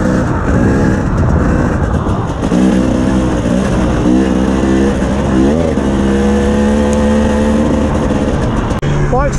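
Cold Honda CRF450L and KTM 300 TPI dirt bikes idle and rev on an icy morning, a loud, steady engine drone with wavering pitch rises, close by and continuous throughout.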